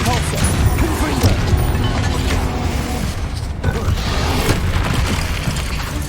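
Confringo and Bombarda spell blasts in the video game Hogwarts Legacy, a dense continuous wash of booming impacts, crashes and rumbling effects, loud throughout with no clear gaps.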